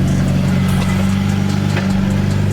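Car engine running steadily while the car backs out slowly, a low continuous hum of medium-engine rumble with no talking over it.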